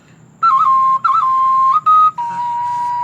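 Thai khlui flute played at a drinking session, a clear, loud melody of sustained tones with quick ornamental trills, broken by short pauses and then held steady, over a low background murmur.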